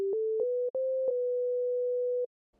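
Default welcome patch on the Arturia Pigments 6 synthesizer: a pure, sine-like tone stepping up through a few short notes to a held pitch, clean and isolated.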